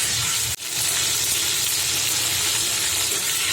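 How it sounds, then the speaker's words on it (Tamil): Drumstick and brinjal pieces frying in oil for a dry fish gravy, a steady close sizzle with one brief dip early on, then a constant dense hiss. "எல்லாம் அப்படியே எண்ணெயில் ஒரு 2 நிமிஷம் வசங்கட்டும்."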